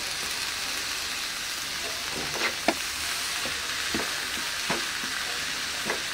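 Drumstick leaves being stirred in a pan, giving a steady close sizzle of frying with a few brief scraping clicks from the spoon, and no talking.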